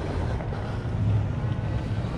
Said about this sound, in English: Wind's blowing a little bit today.